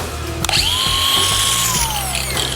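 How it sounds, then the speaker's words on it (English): A grinder cuts off a nut during a construction build. It makes a loud, sustained high whine that spins up after a clank, holds steady and winds down, with no talking. "I'm fixing to take a grinder to its ass."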